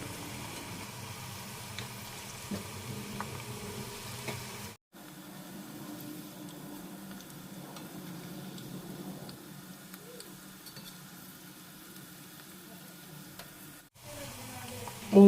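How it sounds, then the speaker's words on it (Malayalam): Ragi onion pakoda frying in oil over a medium-low flame gives a soft, steady sizzle that continues throughout at low volume, broken by two brief silent gaps. "മീഡിയം ടു ലോ ഫ്ലെയിമിലിട്ട് വറുത്തെടുക്കാം"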